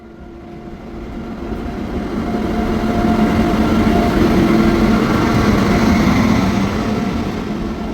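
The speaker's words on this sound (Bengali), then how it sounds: "আমাদের ট্রেনের ইঞ্জিন ট্রেনের সামনের দিক থেকে এখন পিছনের দিকে যাচ্ছে" A train engine rolling on rails, a steady low rumble that swells as it draws near and holds loud and close for several seconds, no voices.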